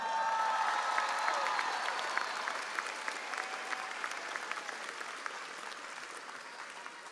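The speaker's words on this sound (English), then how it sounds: "Round of applause." Crowd applause at a high school graduation ceremony, a broad sustained wash of clapping that tapers slightly, with faint cheering, fairly distant and quiet.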